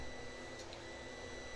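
A resin 3D printer runs steadily at low volume, giving a constant faint mechanical hum and whir with a brief higher whine partway through and no voices.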